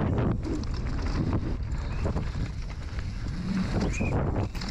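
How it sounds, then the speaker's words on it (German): Strong wind buffeting the microphone on the Willingen downhill mountain bike track, a loud continuous roar with gusty surges throughout and no voices. "viel Speed, aber auch immer wieder Wind."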